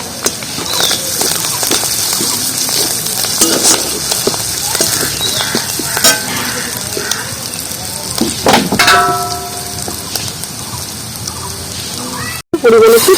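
Chili powder and turmeric powder sizzle in hot oil with frying shrimp and taro stems, a steady crackling hiss with scattered pops and clinks of a utensil, loud and close throughout, ending in a brief gap.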